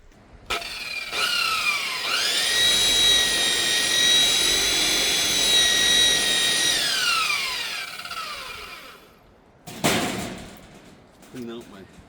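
Power buffing wheel polishing automotive clearcoat with Meguiar's #4 light cut compound, a steady high whine that spins up, holds for several seconds and winds down, followed by a brief rustle.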